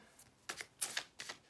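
Tarot reading cards are shuffled in a few quick, soft riffling bursts, close and quiet, with no talking.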